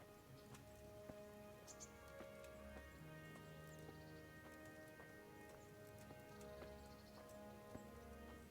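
Horse hooves clip-clopping in the medieval video game Kingdom Come: Deliverance, a steady stream of soft, evenly spaced hoof taps over a constant game ambience, with no talk.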